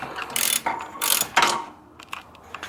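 A 16mm socket on a ratchet loosening the spark plug of a John Deere lawn mower, giving a few close, quick bursts of metallic clicking with short pauses between strokes.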